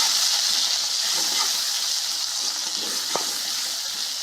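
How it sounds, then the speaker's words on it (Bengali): Chopped onion with ginger-garlic paste frying in a pan, a continuous sizzle and hiss with a soft spatula scrape, close and steady. "তারপর খুন্তির সাহায্যে এদেরকে ভালোভাবে নেড়ে চেড়ে দিন।"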